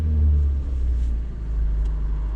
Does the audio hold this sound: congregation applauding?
no